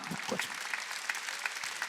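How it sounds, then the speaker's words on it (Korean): Applause from a church congregation during a Korean sermon, a steady patter of many clapping hands lasting under two seconds, with faint talk mixed in. "박수야."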